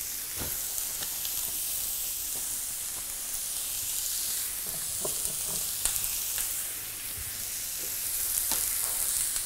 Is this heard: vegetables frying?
yes